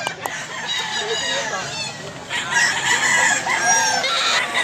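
Roosters crow loudly and nearby at a market in Mantalungon, Cebu, overlapping calls with some clucking, while people talk in the background.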